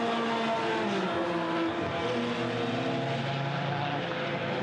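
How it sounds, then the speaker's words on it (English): Race cars at night at the Hampton Downs 12 Hour, with a small BMW chasing the leaders into turn 1, make a steady droning engine roar at moderate distance that holds evenly throughout under faint background noise. "it's the little BMW that's chasing them down as they head into turn 1 once again"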